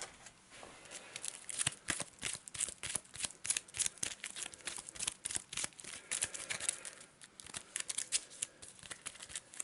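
Cards rustle and snap close by as a deck is handled and a scavenge card drawn, a quick run of papery flicks and slides with short pauses between.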